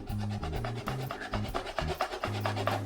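Rough rasping strokes of sawing through tightly sealed packaging on a beauty sample, rhythmic back-and-forth scraping heard close with no talking.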